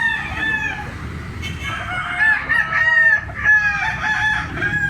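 A Lemon 84 bloodline gamefowl bullstag crows loudly and near, two drawn-out crows in a row, with faint clucking and farmyard noise beneath.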